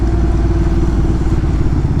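A motorcycle engine runs close and loud with a steady, throbbing rumble and no talk; no clear gear change stands out.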